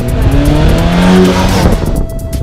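Chrysler 200 sedan accelerating on the road, with a loud, steady engine hum and rising tones that hold for a couple of seconds, close and unbroken, with no talking over it.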